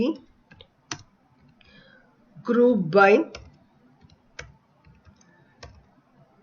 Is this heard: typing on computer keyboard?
yes